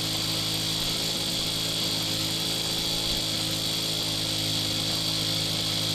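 Lawn mower cutting grass with a steady, loud droning engine hum and constant buzzing whine held close throughout, with no pauses.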